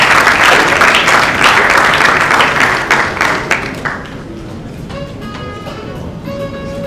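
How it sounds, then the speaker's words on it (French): Audience applause at a certificate-awarding ceremony at a Rotana hotel in the DRC: dense, loud clapping for about four seconds, then thinning out and fading to scattered claps over a soft sustained tone. "sous vos applaudissements s'il vous plaît"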